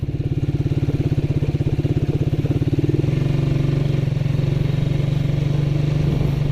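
A small motorcycle labours up a slippery, muddy road, its engine chugging in a fast steady pulse close by, then settling into a smoother, even drone after a few seconds.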